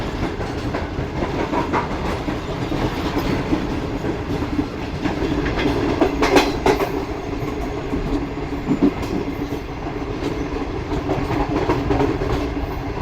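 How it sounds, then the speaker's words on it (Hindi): A train runs through Tando Jam in Sindh, heard from on board as a loud continuous rumble with rhythmic clickety-clack of the wheels on the rails, steady throughout with no speech. "ये पहली बार मैं ट्रैवल कर रहा हूँ किसी ऐसी ट्रेन में जिसने टंडो जाम से थ्रू पास किया है"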